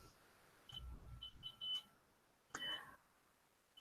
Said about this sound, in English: just got to turn an alarm off